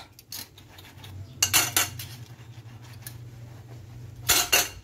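Dishes and cutlery clatter in a kitchen sink at home, with sharp clinking bursts over a low running hum and quieter rattles in between.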